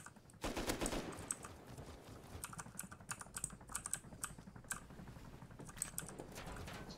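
Rapid gunfire in the survival game Rust, a sustained burst of sharp clattering shots at moderate distance with a few irregular pauses, fairly quiet in the mix.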